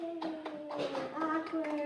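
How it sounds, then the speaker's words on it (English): A small group claps for a guest in a school classroom, the claps sparse and fairly faint, layered under a steady tonal hum and some voices. "Please give a hand of applause for Mrs. Cole."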